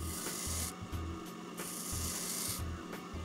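A metal edge is ground or filed to a bevel for welding during a car oil-pan project, heard as loud, continuous rasping strokes in a rhythmic back-and-forth pattern with brief pauses between passes.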